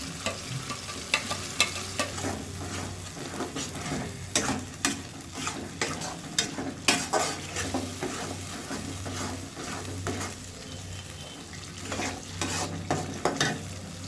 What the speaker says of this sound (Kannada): ಎರಡು ನಿಮಿಷ ಈ ಮಸಾಲೆನ ಹೀಗೆ ಫ್ರೈ ಮಾಡಿ.